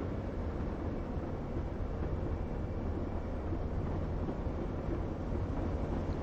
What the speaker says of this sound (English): That massive radial engine really sounds impressive.